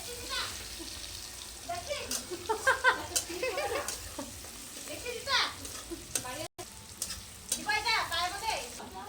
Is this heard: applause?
no